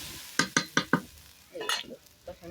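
A spatula works through a salted curry for a village-style fish curry in a pan: four quick, sharp metallic taps in a row, followed by softer scraping and a faint sizzle, close by with no speech.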